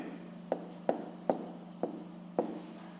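Math inequality handwritten on paper, with steady scratchy pen or pencil strokes broken by five soft taps spaced about half a second apart, close and quiet over a low, constant background hum.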